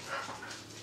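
A Siberian husky whimpers and whines softly indoors, a short thin cry standing alone at moderate level with no talking.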